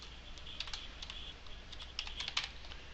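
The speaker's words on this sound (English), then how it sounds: "Every time you start typing," Typing on a computer keyboard while working in Google Docs: quick, light clicks in short irregular bursts, close and fairly quiet, with no speech.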